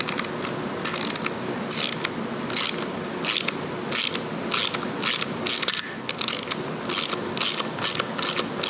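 Ratchet clicking as a nut is tightened on a mini-bike during restoration, loud, regular bursts of rapid pawl clicks repeating steadily about twice a second, close up.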